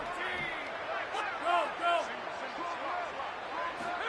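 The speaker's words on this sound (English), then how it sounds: "you can start to hear some of the boo birds coming out from this home crowd" A home crowd at a Florida State football game late in the contest, a broad steady roar with booing swelling in a few waves, sitting under an announcer's continuous commentary.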